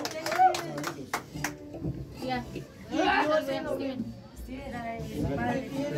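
Applause breaks out at a birthday party with a youth mariachi band, with a few quick claps near the start that give way to loud singing voices and lively chatter from the crowd.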